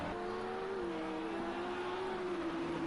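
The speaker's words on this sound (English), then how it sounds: "Hear the full revs going." A race car engine in the Project CARS 2 racing game at the Nürburgring holds high, steady revs, a sustained buzzing whine that shifts slightly in pitch, heard alone without talk.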